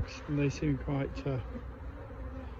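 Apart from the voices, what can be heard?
honey bees buzzing in hive box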